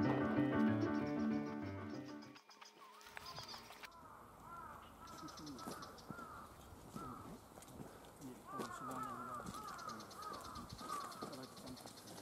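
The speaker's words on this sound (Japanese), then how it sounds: "渡り鳥も来てますね。" Birds calling and cawing outdoors along an old rural road in Tome, Miyagi, Japan, with crow-like caws and chirps scattered through the clip while people talk and footsteps or hoof-like clopping sound nearby.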